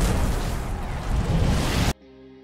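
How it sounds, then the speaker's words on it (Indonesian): A speeding car blows up in a film scene: a loud, roaring explosion rumbles and crackles for nearly two seconds, then cuts off abruptly to a quiet tonal background. "Mobilnya melaju kencang hingga ledakan besar terjadi"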